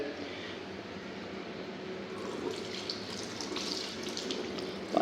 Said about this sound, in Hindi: पानी भी आ रहा है और यहाँ पर 2 अदद पानी की टूटी भी लगी हुई है